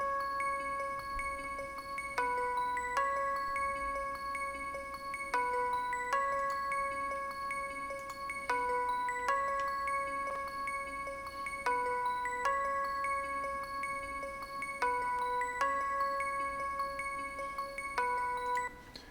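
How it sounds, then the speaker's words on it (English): A bell-with-harmonics preset from the Purity VST plays a steady melodic plugg line of ringing, chime-like notes, changing pitch every couple of seconds over a low bed, with no voices. "I use bell with harmonics, and it sounds like this."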